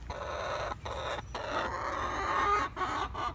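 Several chickens in a pet chicken coop cluck and squawk continuously, close and loud, with brief pauses between bursts of agitated calling.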